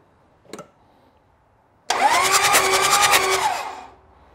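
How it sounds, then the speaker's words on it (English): Toyota Land Cruiser 1HZ-family diesel engine cranked over by the starter for about two seconds with the engine stopped: a steady, close whirring drone with rapid pulsing that cuts off abruptly, preceded by a single brief knock. "I'll get Matt to turn it over for about a second"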